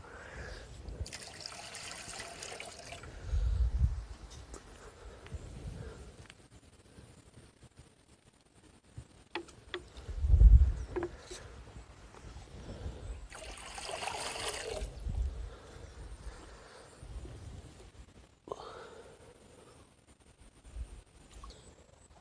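River water trickles and splashes intermittently as a container fills, with a few louder gurgling pours amid quiet stretches; no talking.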